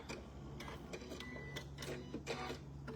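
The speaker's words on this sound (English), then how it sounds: "if I hit this button right here, it's gonna cut my threads and pull my needle up for me" A Janome Continental M6 sewing machine runs its automatic thread cutter, giving a quick run of close, mechanical clicks and whirs over a steady motor hum, with no talking.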